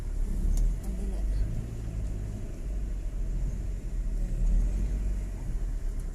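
A motorbike ridden around the grounds of the large Sen Pila restaurant gives a steady, close, low engine rumble that swells slightly now and then, with continuous wind-like noise over it.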